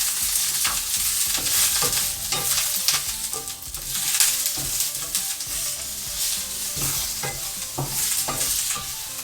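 Onion and pancetta sizzle steadily in a frying pan for yakisoba while a utensil scrapes and stirs in an irregular rhythm. The sound is close and continuous, with no talking.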